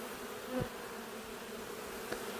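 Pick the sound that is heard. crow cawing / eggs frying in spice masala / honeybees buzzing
honeybees buzzing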